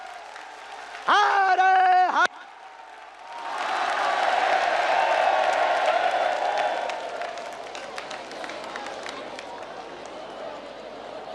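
A large crowd at a Bageshwar Dham gathering gives a sustained, loud wave of applause that swells for several seconds and then thins to scattered claps, after a brief amplified chant over a loudspeaker.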